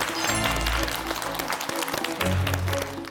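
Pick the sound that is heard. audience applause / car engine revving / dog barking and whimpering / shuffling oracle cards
audience applause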